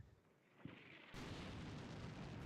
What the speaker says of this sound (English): Okay, artillery's coming in.